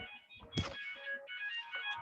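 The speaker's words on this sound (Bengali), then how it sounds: "একটা কল আসছে।" A mobile phone rings with an incoming call during a lecture, giving a short tonal melodic ringtone with a soft thump near the start, heard fairly close and alone.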